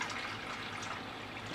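Fresh water poured into a pet snake's tank, a steady close splashing pour that runs unbroken and fairly soft throughout.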